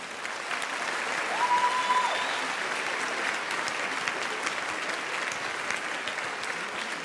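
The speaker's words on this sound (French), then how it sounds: "Et vous pouvez l'applaudir." An audience at a fashion show claps steadily in a long, even burst of applause, full and moderately loud, with a brief tonal whistle-like note early on.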